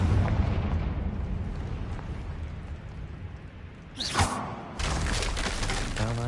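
A Confringo explosive spell blasts in Hogwarts Legacy, a single sharp burst near the four-second mark followed by a loud crackling, rumbling tail over a steady game ambience.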